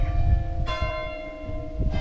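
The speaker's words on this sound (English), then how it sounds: "And if you hear this, that's the bell." A local church bell in Cornwall rings out, with two struck tones that each leave a long, sustained hum, heard at a middle distance over low rumbling background noise.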